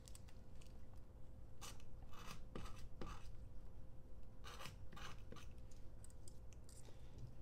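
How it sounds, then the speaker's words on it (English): Green coating is scraped off copper wire for a homemade dynamic microphone, giving faint, close, intermittent rasping scrapes in short irregular strokes over a low background hum. "rotate around till you find some green stuff, and then scrape that green stuff off"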